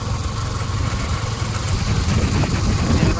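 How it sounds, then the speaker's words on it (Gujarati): A motorcycle engine runs steadily while the bike is ridden around Ahwa in Dang, a low, rough drone that swells slightly toward the end. "ભાઈ બાઈક ચલાવે છે."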